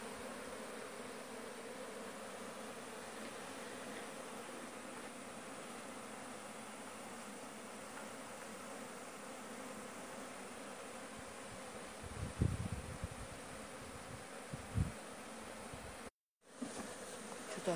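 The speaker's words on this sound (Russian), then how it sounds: "Вот заходят, заходит вон пчела вроде большая, как похоже на матку." Steady honeybee buzzing fills the whole stretch as a swarm enters a hive, a dense droning hum of many bees, with a few brief soft bumps near the end.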